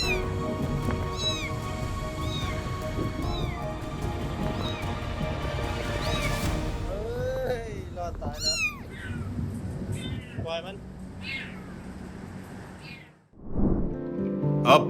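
A cat rescued from an escalator meows repeatedly, its cries rising and falling through a busy, continuous background of music-like tones, fairly close and clear, before a brief drop to quiet and a final burst of noise.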